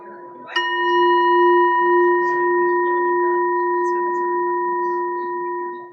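A meditation chime struck once at the end of a silent reflection during a church service, ringing out loud and clear with a bright attack and a long, steady, sustained tone that fades only slowly.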